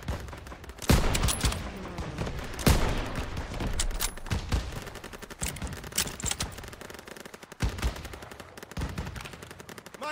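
Call of Duty WWII battle gunfire: rapid automatic bursts and sharp single shots crack repeatedly at close range, loud and irregular, with echoing reports and no clear speech.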